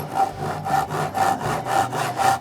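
A Japanese Augusta pull saw gently starts a cut in wood, making about five steady, evenly spaced rasping strokes heard up close.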